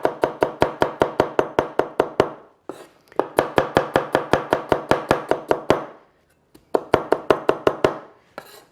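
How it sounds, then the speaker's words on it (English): A knife chops onion along the grain in quick, even strokes, close and crisp, falling in three bursts separated by brief pauses, with no talking. "cut along the grain, not against the grain"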